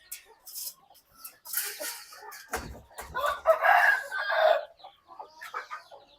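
Chickens and chicks clucking and cheeping in a farmyard where they pick through dung, with several overlapping bird calls coming in bursts at close range.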